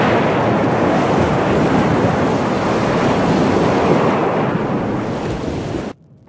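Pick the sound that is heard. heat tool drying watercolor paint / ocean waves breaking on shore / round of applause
ocean waves breaking on shore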